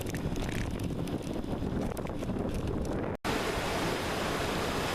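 Along the Alpe Adria bike path beside the Fella river, a broad steady rush of flowing water mixed with wind noise plays continuously and fairly loud, with a brief dropout partway through.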